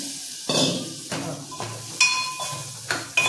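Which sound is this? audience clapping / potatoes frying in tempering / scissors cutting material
potatoes frying in tempering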